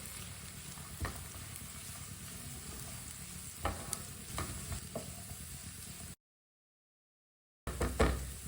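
Chopped cabbage, grated carrot and capsicum being stirred into mashed potato aloo tikki mixture in a bowl, soft repeated scraping and squelching thumps at close range with no talk, breaking off into a short gap near the end.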